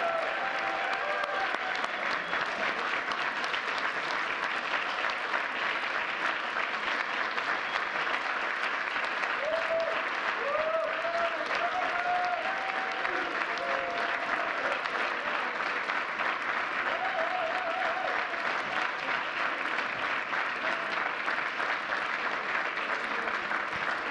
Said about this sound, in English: Let's give one more round of applause for this year's Presidential Freedom recipient.